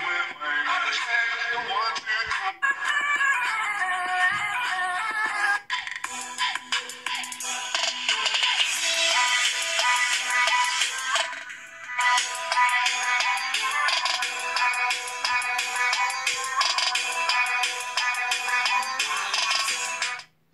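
Music plays continuously through the small built-in speaker of a Vivo U3X budget smartphone, bright and thin with little bass, filling the whole stretch without speech.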